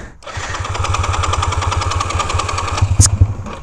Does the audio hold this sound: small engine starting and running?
yes